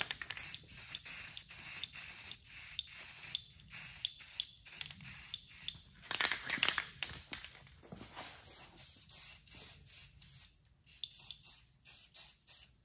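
Spray paint cans with older, partly clogged caps mist paint over a custom sign's midnight blue, producing a series of short, rhythmic hissing bursts followed by a denser, longer spray, close and fairly loud.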